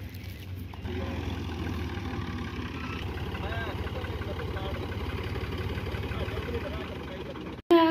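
A tractor engine idles with a steady low rumble in a village setting, sowing maize seed, running continuously at moderate distance while people talk over it.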